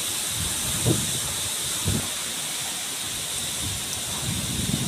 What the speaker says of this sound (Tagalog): Lakas talaga ng hangin sa Marias.